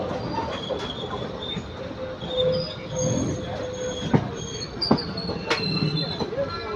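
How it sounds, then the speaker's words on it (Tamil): An intercity express train arrives at Palakkad Junction, rolling past with rumbling wheels, metallic clanks and a few sharp squeals, fairly close, over a steady ambient hum. "கரெக்டான டைமிங்கில் வருதுங்க இந்த ட்ரெயின்"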